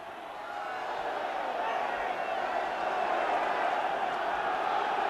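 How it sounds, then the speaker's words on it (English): A large football crowd at Southend United versus Liverpool in 1979 roars in a sustained, swelling wall of cheering and chanting from the terraces, loud and continuous, with a commentator talking over it. "So the crowd trying to rouse the third division side to the dramatic finish."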